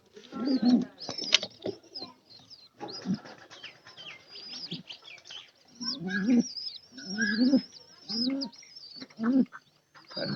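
Pigeons coo in low, throaty bursts, several birds close by, with chirps and some wing flutter mixed in.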